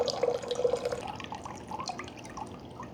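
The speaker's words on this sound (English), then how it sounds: "and then let the water drain that way." Water drains from the hose of an Ecoflow Glacier portable powered cooler's ice maker, a steady trickling with a few dripping splashes that start louder and ease off, heard close with no talking.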